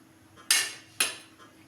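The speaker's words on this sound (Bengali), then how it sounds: "ঢাকা বন্ধ করলাম।" A lid is set onto a cooking pot while flat beans steam with mustard and poppy seed paste, giving two sharp, close clanks about half a second apart, with no talking.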